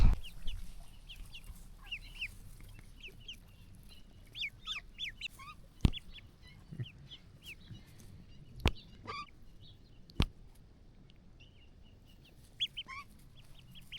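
Many ducks and ducklings chirp and peep in a busy chorus, with occasional sharp clicks and a low rumble beneath, close by and steady.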